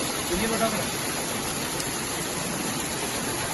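River water rushing along the bank at a Balinese melukat bathing site in Bali, a soft continuous hiss of flow, fairly faint, with brief speech.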